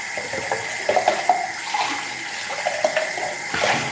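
Tap water runs steadily into a sink while a milk bottle is washed, a close, continuous splashing stream with small clinks and knocks of handling.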